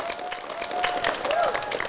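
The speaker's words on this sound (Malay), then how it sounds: "Tepuk tangan kumpulan ni orang." Classroom applause for a student group during a Year 4 science lesson, a short burst of scattered clapping from the class with a voice speaking over it.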